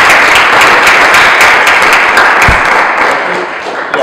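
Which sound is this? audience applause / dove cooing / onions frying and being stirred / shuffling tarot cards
audience applause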